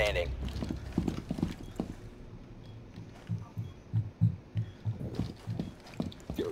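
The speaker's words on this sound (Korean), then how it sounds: "옥상에 있는 것 같아요 뛰어다니는 소리" Running footsteps thud on a rooftop in the tactical shooter Rainbow Six Siege, a rapid, uneven patter of fairly close impacts throughout, mixed with game ambience and muffled voice chat.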